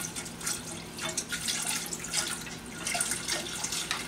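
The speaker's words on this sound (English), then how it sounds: "I'm going to add some of the, about 2 cups of the chicken broth very slowly while you stir" Chicken broth poured slowly into a pot while being stirred, a steady close liquid splash and trickle with faint clinks, going on for about four seconds with no talking.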